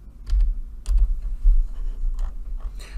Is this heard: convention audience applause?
no